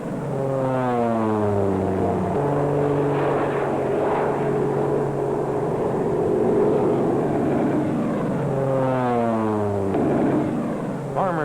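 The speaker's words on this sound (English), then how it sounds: "Farmers hire the planes to defoliate their cotton or to lay down whole clouds of insecticide." A crop-dusting propeller airplane sweeps low over cotton fields in the American South, its engine drone rising and falling in pitch as it passes close by, then passes again, loud and steady throughout.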